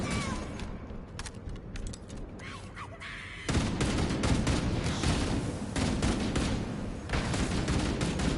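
Gunfire from a bunker in the video game Halo, dense bursts of automatic shots and battle noise that grow louder partway through, with mechanical clatter alongside.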